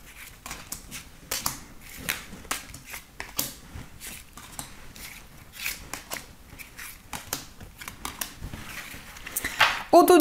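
Tarot cards shuffled and drawn, a run of soft, close card flicks and slaps at an uneven rhythm, quiet and crisp, with a brief louder handling noise at the end.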